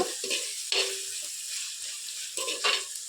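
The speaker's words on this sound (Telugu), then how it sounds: "సో ఇప్పుడు టమాటా పండ్లు బాగా మెత్తగా మగ్గిపోవాలన్నమాట" Tomatoes stewing soft in a clay pot for cabbage curry, with soft sizzling and a few stirring scrapes coming in short bursts, fairly quiet and close.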